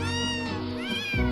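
A domestic cat gives a drawn-out, tonal meow followed by a second rising call, close and clear with nothing else heard.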